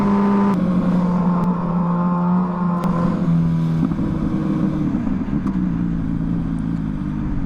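A Ducati Superveloce motorcycle revs and rides, its engine note rising and falling in steady harmonic pulls, loud and close throughout with wind noise underneath.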